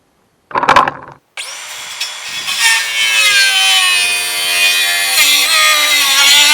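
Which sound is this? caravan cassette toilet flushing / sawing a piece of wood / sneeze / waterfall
sawing a piece of wood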